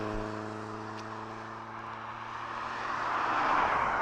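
A jet airliner on approach to the runway at East Midlands Airport at night, its engines a continuous rumbling drone with a steady hum that swells slightly louder toward the end.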